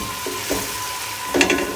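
Green beans or vegetables slowly sautéing in a pan over medium-low heat, a soft steady sizzle with a few brief stirring scrapes and a louder clatter near the end.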